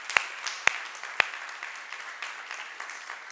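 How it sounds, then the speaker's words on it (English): An audience gives a round of applause for a singer and violinist, with a few sharp claps up front, then a thinner, fading patter of clapping heard from a distance. "To all of you that did that, big round of applause to you"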